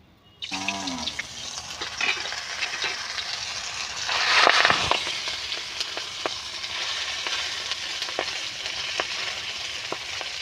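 Lentil patturi wrapped in gourd leaves frying in hot oil, a sudden loud sizzle that begins after a brief quiet and holds steady, swelling for a moment midway, with faint clinks on top and no talk.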